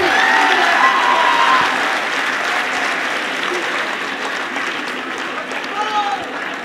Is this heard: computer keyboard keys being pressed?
no